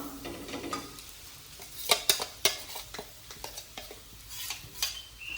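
Crushed coriander, fennel and bird's eye chili are tipped into onion frying in a pan, followed by a soft sizzle and repeated sharp scrapes and clinks of a spoon stirring against the pan, close and clear with no talk.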